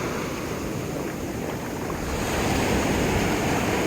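Sea waves wash onto a beach in a steady, rushing roar with gusts of wind noise. The sound stays fairly loud throughout, and no one speaks.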